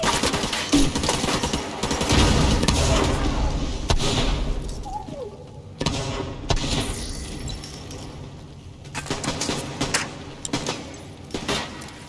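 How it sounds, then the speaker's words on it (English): Grenade launch and blasts in The Division 2 shooter game, with bursts of gunfire and breaking glass crashing through a dense, loud action mix, several explosive impacts spread across the scene. "Launching grenade."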